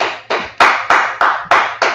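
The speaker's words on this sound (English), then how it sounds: "Clap it up, clap it up." A classroom audience at an Israelite scripture class claps together in a steady, loud rhythm of about six sharp beats, spaced evenly and heard alone with no talking.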